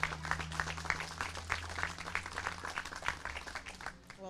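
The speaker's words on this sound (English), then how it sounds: "let's get a nice round of applause for Ms." Audience applause at a playground dedication ceremony, a steady wash of many hands clapping with scattered sharp claps, fairly distant and moderate in level, tapering off near the end over a low background hum.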